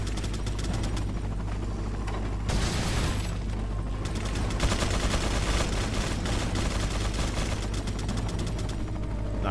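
Sustained rapid turret gunfire in Resident Evil 4, a loud, dense, unbroken mechanical rattle of shots with a brief heavier blast partway through, filling the whole stretch without pause.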